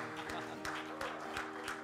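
Church congregation applauding, a soft steady patter of many hands with a sustained musical tone underneath, fairly distant and moderate in level.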